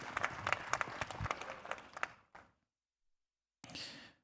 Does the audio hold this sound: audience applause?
yes